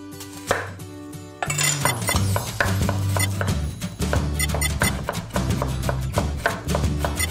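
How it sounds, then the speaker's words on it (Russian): Vegetables being chopped quickly with a knife on a cutting board while chicken broth simmers in a home kitchen, a steady, rapid series of close, crisp knocks repeating without pause, no talking. "А сам пока пулей нарублю овощей."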